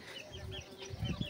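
Chickens in a small rooftop poultry coop give soft, faint clucks over a low background murmur, a few short calls close together.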